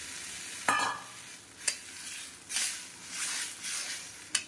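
A spice paste of ground spices with onion, ginger and garlic fries in a pan, stirred with a few sharp scraping clicks over a steady close sizzle.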